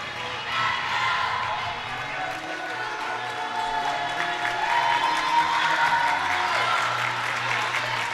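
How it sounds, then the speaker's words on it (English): A crowd at a college volleyball match late in the fifth set claps and cheers steadily for several seconds, filling an indoor arena, while a commentator talks over it. "Crowd, a raucous one here in the Justice Center"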